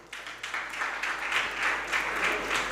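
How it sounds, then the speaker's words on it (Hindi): People at a Jain religious discourse gathering break into applause, starting softly and rising into steady clapping with a slightly pulsing rhythm. "हमने ये ताली बजाने को नहीं बोला विजयंत, ताली बजाने का नहीं बोला"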